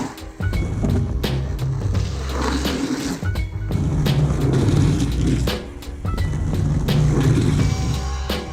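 A skateboard rolls on rough wheels, rumbling steadily while a rider drags the back foot on the ground to brake, adding scraping friction between clicks and bumps; no talking.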